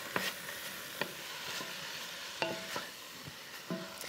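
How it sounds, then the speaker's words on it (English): Soft sizzling of a cabbage soup base in a pot with several sharp clicks of a spoon stirring against the sides, fairly quiet and close. "when it's really well coated and you can hear the sizzle"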